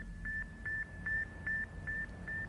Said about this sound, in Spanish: Al fondo, entre todos los ruidos, pude oír un sonido. Era más como un grillo que un bip